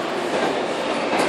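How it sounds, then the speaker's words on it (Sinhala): A mini amusement-park train running, a steady close rumble of wheels and carriages rattling along without pause, with no voices over it. "අනේ ට්‍රේන් එකේ සද්ද. ටින් ටින් ටින් ගා යන්නේ."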